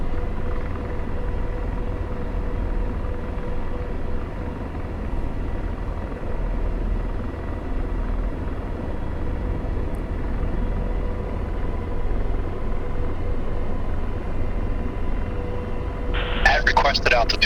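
An AH-64D Apache helicopter climbs in the DCS flight simulator, its steady rotor and turbine drone droning loud and unbroken throughout, with a brief higher-pitched electronic burst near the end.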